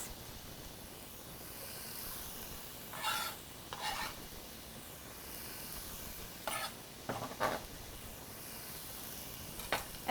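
Peppers and onions sauté in olive oil in a skillet, giving a soft continuous sizzle with a few short bursts of scraping stirs scattered through.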